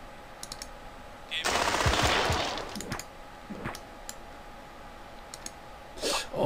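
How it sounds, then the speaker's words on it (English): A heavy machine gun fires in the video game Incubation, a dense burst of rapid shots lasting about a second and a half, then sparse clicks and a short later burst. "See if my heavy machine gun can take a couple of these guys out."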